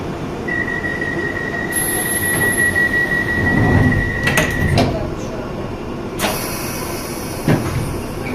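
A London Underground Piccadilly line train heading to Uxbridge runs loudly from inside the carriage, with a steady rumble, a long thin wheel squeal, rattling clanks and a hiss near the end, and an automated announcement voice speaking over it.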